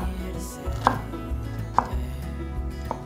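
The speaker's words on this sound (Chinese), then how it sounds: "把红喜菇的根部切掉，不切碎，从头开始切，这样子比较不容易散掉。" A knife chops red shimeji mushrooms on a cutting board in a few distinct, well-spaced thuds, each a short sharp knock against the board, with no talking.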